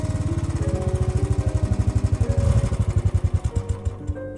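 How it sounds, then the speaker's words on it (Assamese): Motorcycle idling as it pulls up and stops before a bonfire, used as an effect in an Assamese audio story: a close, steady rapid putter of the engine thumping evenly throughout and easing slightly at the end, with no talk. "বাইকখন জুইকুৰাৰ সন্মুখত ৰখালে"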